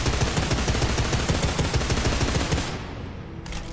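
Sustained rapid automatic gunfire in Deadfall Adventures rattles loud and dense for nearly three seconds, then cuts off to a quieter tail with one faint later shot.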